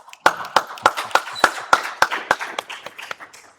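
Clapping at an environmental education conference in Accra: a steady rhythmic series of about a dozen sharp, close hand claps, evenly spaced with faint background noise between them.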